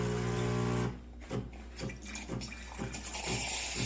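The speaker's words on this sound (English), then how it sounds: "Now let's turn on the steam." A MiiCoffee Apex espresso machine in brushed stainless steel has its steam wand opened after a steady hum, then spits water in a series of wet, irregular sputters and bursts close by rather than a continuous hiss.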